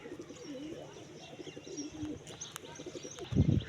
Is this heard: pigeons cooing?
yes